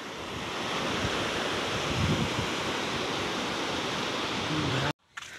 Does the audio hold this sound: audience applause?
no